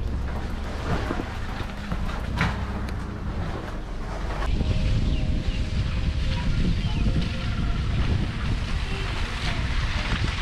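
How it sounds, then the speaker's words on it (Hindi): Heavy rain during a long-haul truck drive, a dense, loud roar of water and wind noise blended with the rumbling cab, continuous throughout. "फूल बारिश आ रही है।"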